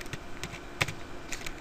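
Quick, uneven clicks of fingers typing on a computer keyboard, a short burst of close keystrokes with one sharper tap near the middle, heard alone without speech.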